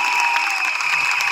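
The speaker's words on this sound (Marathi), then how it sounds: "एकदा जोरदार टाळ्या सगळ्या स्टेजवरच्या नेत्यांसाठी झाल्या पाहिजे" A crowd at a Shetkari Kamgar Paksha political rally in Mohopada claps for the leaders on stage, a steady, even roar of applause with faint cheering mixed in.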